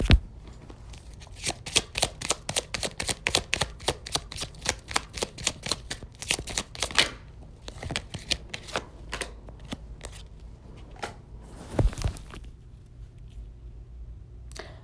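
Tarot cards shuffled in quick rapid riffles, a dense run of crisp flicking snaps that slows into scattered taps and a final burst, close and fairly loud with no voice over it.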